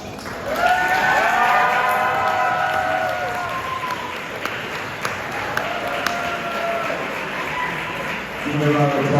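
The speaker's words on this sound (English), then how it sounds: "Give a round of applause to our cross country team." A roomful of people at a school sports banquet applauds and cheers for the cross country team, a loud, steady wash of clapping with voices rising over it throughout.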